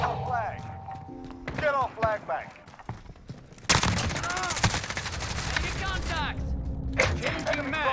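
An AS VAL assault rifle firing in the video game Modern Warfare, with a long close burst of rapid shots and a second short burst later, amid game effects and voices.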